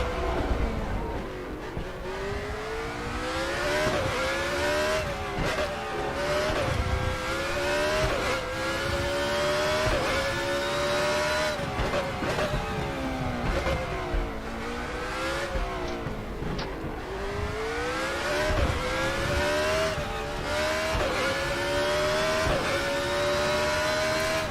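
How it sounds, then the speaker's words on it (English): A race car engine in the racing game RaceRoom revs and shifts repeatedly, pitch climbing then dropping with each gear change, loud and continuous as the car is pushed hard on a hot lap. "car sounds so good"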